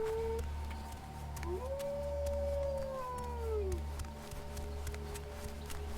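A wolf howls in a video game, one long rising and falling wail rising above a steady low ambient rumble, with a second fainter howl later on.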